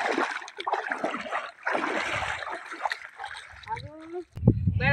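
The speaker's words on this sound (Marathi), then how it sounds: "आता हे बघा पाण्यातनं चाललोय" People wade through knee-deep water in a flooded farm field, with sloshing and splashing steps under near constant talking, ending in a sharper splash.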